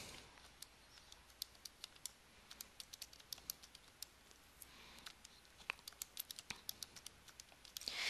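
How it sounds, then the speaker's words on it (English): Keys on a calculator are tapped in a quick, uneven run of light clicks, close and soft over a quiet background while numbers are entered for a quadratic equation problem. "when I type that into my calculator"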